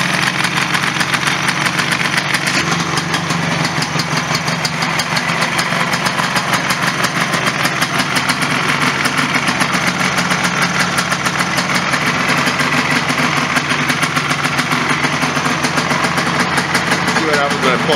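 The engine of a 1996 Polaris Sportsman ATV idles steadily after a carburetor swap, a close, continuous mid-pitched chugging drone that runs through the whole stretch.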